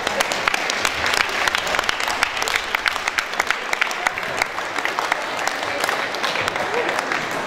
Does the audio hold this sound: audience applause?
yes